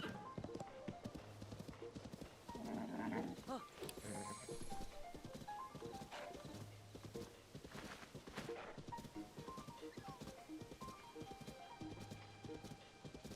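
Horse hooves clip-clopping in the video game Zelda: Tears of the Kingdom, a steady walking rhythm of hoofbeats over ground, with a faint talking voice now and then.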